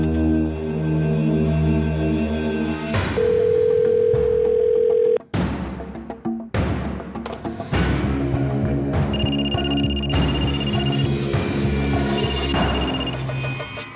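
A telephone rings on and on without being picked up, steady electronic tones repeating alone, then breaking off into clattering and a second run of ringing tones.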